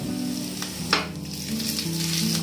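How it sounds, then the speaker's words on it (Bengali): Dried red chillies and panch phoron spluttering in a little hot oil, a steady close sizzle with a few sharper crackles and pops, no voices. "তেলটা একটু গরম হতে এর মধ্যে আমি দিয়ে দিচ্ছি শুকনো লঙ্কা আর পাঁচ ফোড়নটা।"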